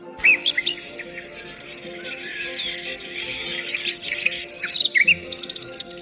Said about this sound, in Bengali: এটা পাখিদের কিচিরমিচির শব্দ